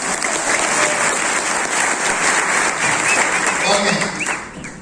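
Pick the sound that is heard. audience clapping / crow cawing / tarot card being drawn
audience clapping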